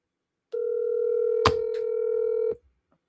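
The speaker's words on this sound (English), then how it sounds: "let me call the next one here. But I hate hand dialing." Steady telephone dial tone sounds for about two seconds during a hand-dialed cold call, with a brief click partway through, then cuts off into silence.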